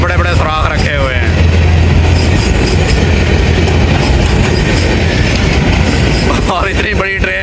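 A long Pakistan Railways train rolls past close by, loud and continuous, with steady clattering wheels and a low rumble and brief squeals near the start and end.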